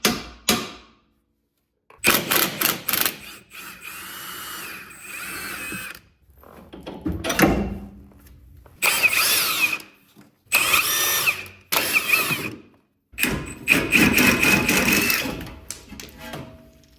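Power tool bursts loosening suspension bolts on a Dodge Charger during a coilover install, a series of loud, close whirring and ratcheting runs of a few seconds each, separated by short pauses, with no talking.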